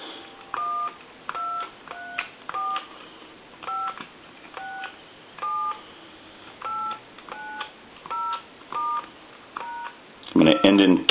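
A brass Majesty telephone sends a run of about a dozen crisp dialing tone bursts in an even, quick rhythm, clear and close, ending with a brief clunk of handling.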